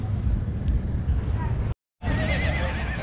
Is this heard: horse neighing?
yes